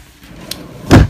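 A hidden drawer under a jackknife couch in a 2005 Holiday Rambler Ambassador motorhome slides open after a small latch clicks, ending in a solid close thump over quiet room noise.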